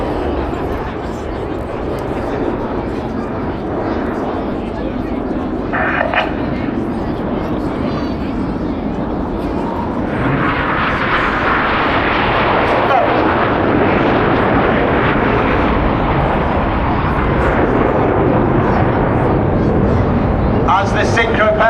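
Aerobatic display jets roar past at a seaside airshow in Blackpool, a loud sustained broadband rumble that swells and intensifies midway as the pair turn back toward each other, with a commentator talking over it throughout.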